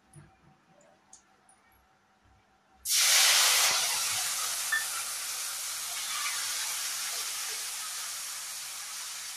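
Ground cumin and ginger paste drops into hot oil in a pan: after a few quiet seconds a sudden loud sizzle bursts out and holds as a steady, close hiss to the end, with no talking.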